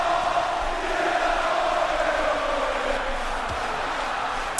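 Arena crowd roaring steadily throughout a WWE 2K26 wrestling match between Kenny Omega and AJ Styles at ROH Glory By Honor, a dense, continuous wash of cheering at constant loudness.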